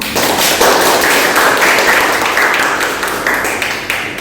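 Graduating university students clap together in a classroom, a loud, dense wash of applause with rhythmic swells, sustained and fading slightly toward the end.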